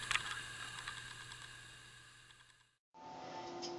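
Faint, light tapping on the on-screen keyboard of a Samsung Galaxy Tab 10.1 tablet running Android 3.2 Honeycomb, soft irregular taps in a quiet indoor room before a brief cut to silence.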